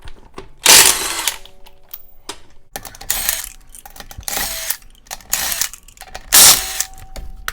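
Power tool spinning 19 mm lug nuts off a Ford Explorer wheel, three loud bursts of whirring separated by quieter clinks and handling noises, close up and with no talk.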